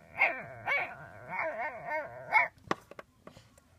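A puppy barks and yips in a quick run of close, loud bursts, followed by a few sharp clicks and small knocks from the dog moving nearby.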